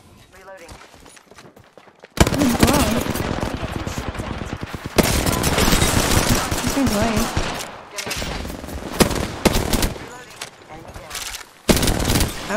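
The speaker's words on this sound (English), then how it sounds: "Firing. Getting shot at." Gunfire in an online shooter match: loud bursts of automatic fire and rapid volleys in close, sustained stretches broken by short pauses, with players talking over the shooting.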